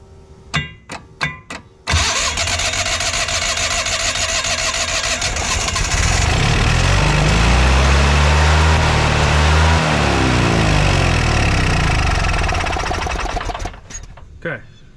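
Yanmar diesel engine on a cheap auction-bought track dumper being cranked and catching, clicks then a long loud starter grind that settles into a rumbling idle and revs, close and dominant before cutting off.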